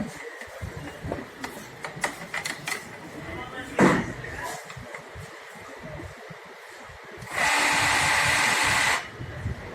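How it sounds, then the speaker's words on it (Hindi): An Epson ink tank printer powering up with a disconnected sensor, its roller spinning with a loud, steady whirring burst near the end, following clicks and clatter of handling while someone talks. "देखिए प्रिंटर जोर से ये रोलर घूमेगा"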